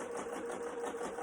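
A sewing machine runs a seam on a fabric face mask in a steady, close mechanical whir that holds through the whole stretch.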